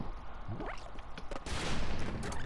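Gunfire hitting a ragdoll in LittleBigPlanet 3, a quick burst of several sharp shots and impacts, fairly faint, building to a louder crashing burst near the end.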